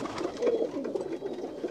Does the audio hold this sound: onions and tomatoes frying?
no